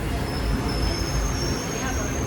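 A train runs steadily with a dense, continuous rumble and rattle heard from inside a ladies compartment, broken only by a faint high squeal.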